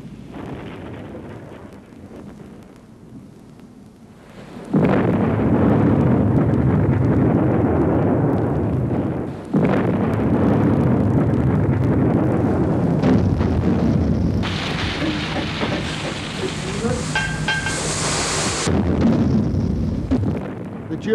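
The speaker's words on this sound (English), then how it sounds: "U-110 was attacked with depth charges by the British corvette Obrecia and blown to the surface" Depth charges from a British corvette burst around the German submarine U-110 in the Battle of the Atlantic, giving long, loud rumbling booms that swell and roll on for several seconds, one after another, with no talk over them.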